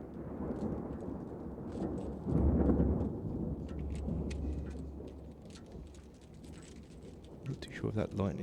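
Thunder rolls with a deep rumble over steady rain in the video game Realms of the Haunting, swelling loudest in the middle and then fading back into the rain, with some voice near the end.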